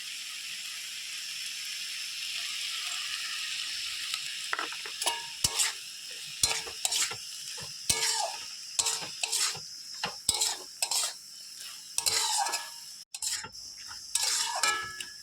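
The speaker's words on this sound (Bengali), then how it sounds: "ভালো করে সর্ষে বাটাটাকে মিশিয়ে নিচ্ছি ডাটা শাকের সঙ্গে" Pumpkin stem greens being stirred together with mustard paste in a pan, a spoon scraping and clacking in uneven bursts over a low steady sizzle, close and fairly quiet.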